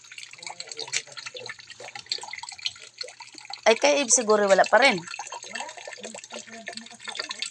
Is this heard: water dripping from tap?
yes